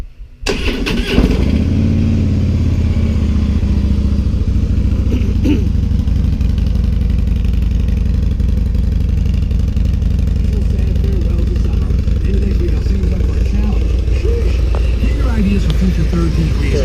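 A motorcycle on its stock exhaust mufflers starts up and runs with a loud, close, steady rumble, with occasional small revs over a deep continuous idle.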